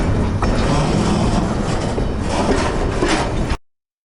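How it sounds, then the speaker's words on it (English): A battle train rolling along in the video game Vivisector: Beast Within, a steady loud rumbling and clattering of rail cars that continues throughout and then cuts off abruptly at the end, with no talking. "Alright, we board the battle train."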